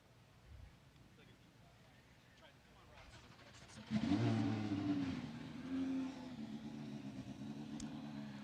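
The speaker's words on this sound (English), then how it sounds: "you'll hear some engines firing up here" Indy Lights race cars at a Portland circuit firing up, one engine catching and rising into a loud roaring idle with a brief rev, following a quieter stretch with a voice speaking faintly.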